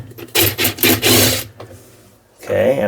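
A 10mm bolt is loosened and removed from the center of an LG washer drum, heard as close, scraping ratchet-like bursts, then a short quiet pause and a final rattling grind.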